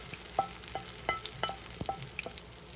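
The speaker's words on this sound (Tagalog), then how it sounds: "Ganyan ho ako mag-mix ng itlog na may kamatis." Eggs mixed with tomato stirred in a bowl, a quick series of soft clicks and taps from the utensil, faint and close, with no talking.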